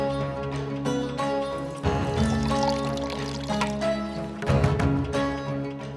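Water is poured for someone to drink, giving a steady close liquid splash that continues for several seconds with a couple of brief pauses, and no talk over it.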